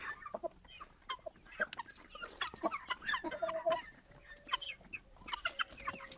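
Chickens cluck and chatter nearby in a busy farmyard, with repeated short calls and a large Indian-breed rooster among them, no talking.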